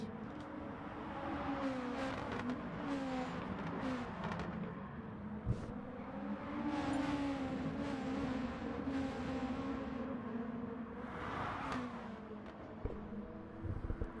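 Race car engines in Gran Turismo Sport hum and whine faintly and continuously in the distance, with slight rises in pitch as the cars accelerate.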